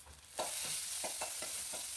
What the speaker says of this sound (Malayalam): താളിക്കാനായിട്ട് ചെറിയുള്ളിയും കടുകും കറിവേപ്പിലയും കൂടി അടുപ്പിൽ വെച്ചിട്ടുണ്ട്